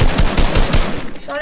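Rapid automatic gunfire from an online multiplayer shooter game in duo mode, loud, dense bursts of shots filling the clip, ending with a brief ringing tone.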